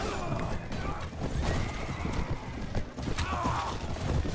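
Horse hooves clip-clop at a gallop with repeated neighs and whinnies in the Mount & Blade: Warband video game, a busy mounted battle scene with scattered clashing noises underneath.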